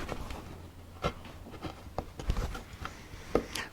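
Small carving gouge slicing across lettering on a wooden pizza paddle, giving a series of soft, close scraping cuts and light taps at an uneven pace, quiet with no talk.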